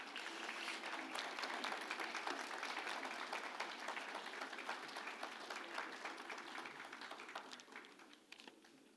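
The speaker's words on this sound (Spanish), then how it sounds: "lo recibimos con fuertes aplausos" Dense applause from an audience, a continuous patter of many hands clapping that gradually thins out toward the end.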